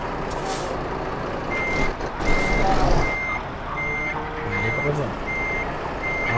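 Steady reversing beeps from a truck backing up in Euro Truck Simulator 2, a regular chain of short, evenly spaced tones over a low diesel engine rumble, with a brief air-brake hiss partway through.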